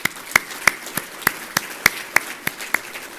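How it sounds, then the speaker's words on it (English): Applause for award winners at an annual awards banquet, heard as about a dozen evenly spaced, close, sharp claps in a steady rhythm rather than a full crowd ovation. "how about another round of applause for all the award winners tonight?"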